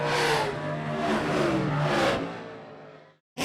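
A race car engine at a truck racing event roars loudly and revs in rising and falling surges, then cuts off abruptly near the end before a brief burst returns.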